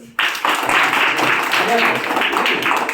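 A group of people clapping together, a sustained burst of dense applause that starts abruptly and carries steadily to the end, loud and close.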